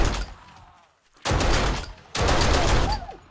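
AK rifle fire in 7 Days to Die: two loud bursts of rapid automatic shots, each lasting about a second, close by, with a quieter stretch before them.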